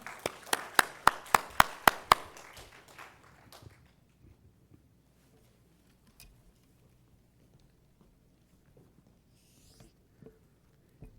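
A church congregation claps briefly to welcome a missionary, about seven sharp, evenly spaced claps over two seconds, then the room falls to near silence with faint rustles.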